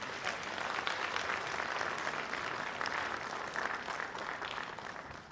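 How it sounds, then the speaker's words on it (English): Audience applause at a speech on economic reforms and macroeconomic confidence, a steady, even wash of clapping lasting several seconds at moderate level with no voices. "I think they deserve an applause for this"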